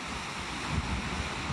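Hurricane Milton's winds roar through downtown St. Augustine, a loud, continuous rushing gust with heavy buffeting against the microphone and no speech.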